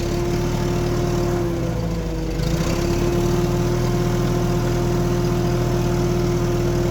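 An International 340 tractor dozer engine runs steadily in first gear, a loud, close, continuous mechanical drone with a strong hum that thickens and grows a little rougher partway through.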